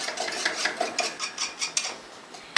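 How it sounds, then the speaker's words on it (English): A whisk beats egg yolks in a pot set over simmering water for a chocolate mousse, scraping in a quick, steady rhythm close by. "you want to whisk it for 5 to 8 minutes until it becomes really thick and really light."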